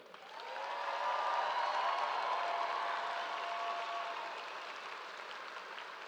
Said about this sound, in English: Please give the class of 2025 a round of applause.